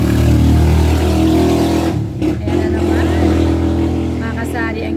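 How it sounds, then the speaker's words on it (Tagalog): Cars and motorcycles pass on a noisy road, a loud steady engine roar close by with a brief dip midway before the traffic swells again. "tuwing magbablog ako na maingay ang mga sasakyan kasi ganun talaga dito sa amin"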